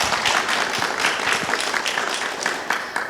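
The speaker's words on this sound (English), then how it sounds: "Bit of a round of applause for them." Audience applause at a motorsports engineering panel event, a dense, steady patter of many hands clapping that carries through the whole stretch without a break.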